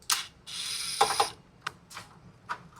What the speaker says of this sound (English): 2 Torx screws first. T15 Torx bit.